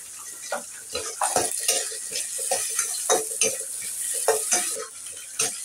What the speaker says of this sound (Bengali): পেঁয়াজটা আমি ভালো করে ভেজে নিই।